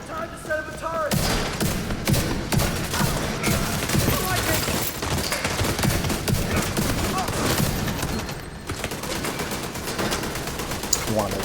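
A deployed turret fires in the Division 2 shooter game, producing dense, continuous rapid gunfire across the whole stretch, loud and close, with occasional faint talk underneath.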